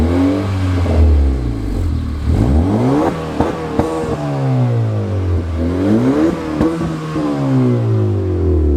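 A 2018-or-newer Honda Accord fitted with a DC Sports exhaust revs in sport mode. The engine note climbs and falls through several loud, close throttle blips, with a throaty rasp and no talking.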